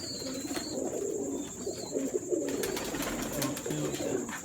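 Golden pigeons coo in a low, repeated rolling call, several birds overlapping at close range against a steady background hiss, with soft chirps and a faint voice now and then.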